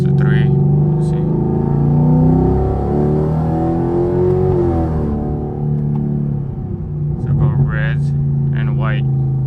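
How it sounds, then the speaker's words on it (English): A 2016-or-later Chevrolet Camaro engine revs up with a rising, layered drone inside the cabin, then settles back down, while a person talks over it. "see if I can let it rev a little higher"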